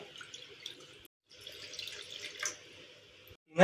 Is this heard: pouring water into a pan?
yes